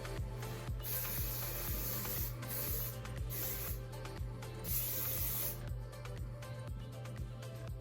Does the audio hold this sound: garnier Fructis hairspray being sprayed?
yes